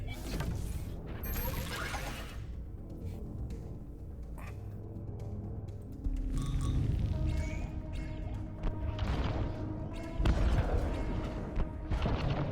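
Explosions in the Breachway space strategy game: a loud booming burst around the middle and another heavy blast near the end, over a continuous bed of game music and rumbling effects.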